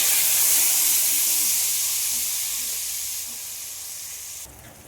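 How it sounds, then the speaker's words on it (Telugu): Tamarind water for Tirupati-style pulihora is poured into hot spiced oil, setting off a loud, close burst of steamy hissing and sizzling that gradually fades, then cuts off sharply near the end. "మనము పిసికి పెట్టుకున్న చింతపండుని మొత్తం ఇందులో పోసేసాము"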